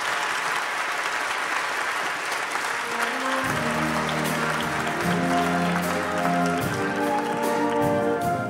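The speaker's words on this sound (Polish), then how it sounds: "Wielkie brawa." Warm, sustained applause from an audience at a media awards gala as the 2008 Reformer prize goes to a newspaper campaign, continuous dense clapping with music entering partway and playing beneath it.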